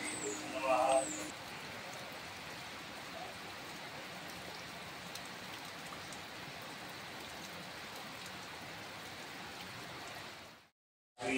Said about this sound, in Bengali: দেখছো তো কত খারাপ বৃষ্টি পড়ছে